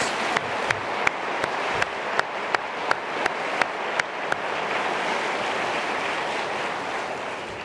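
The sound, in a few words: audience applause in recognition of care center teams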